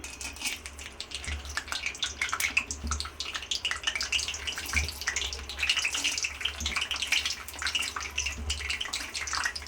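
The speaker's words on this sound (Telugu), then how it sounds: "ఆయిల్ బాగా హీట్ అయింది కదా ఇప్పుడు ఫస్ట్ పల్లీలు వేసుకుందాం" Peanuts dropped into hot oil, a soft, continuous bubbling sizzle with crackly pops running throughout, fairly quiet and with no talking.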